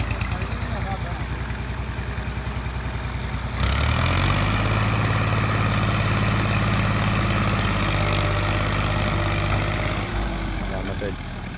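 A tractor engine idles with a steady, heavy low rumble that thickens and grows louder a few seconds in, then runs evenly, while people talk nearby.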